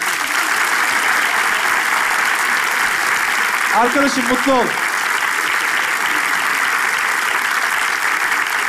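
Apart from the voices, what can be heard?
audience applause as musician enters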